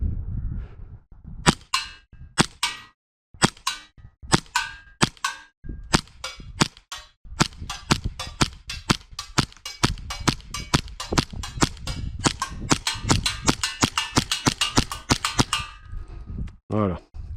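A custom 140 replica gun fires repeatedly at targets, sharp cracking shots that start sparse and then come in rapid, dense bursts, loud and close, with a faint voice near the end.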